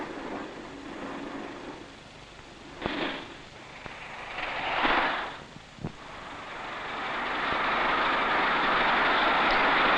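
A steam locomotive works along the Settle to Carlisle railway line in 1963, a low rumbling run with a few sharp bursts and a rising, rushing roar toward the end.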